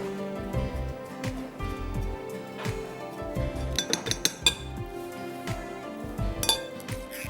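Butter cake batter is mixed in a bowl, with repeated clinks and knocks of a utensil against the bowl, irregular in rhythm and close by, over a low rumbling background.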